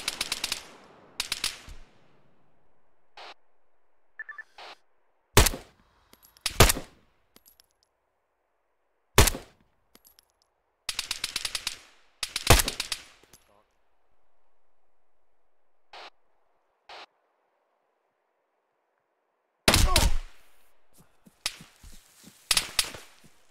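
Sharp, sporadic gunshots in a tactical shooter game, fired as isolated single cracks and short bursts separated by silence, fairly loud and close.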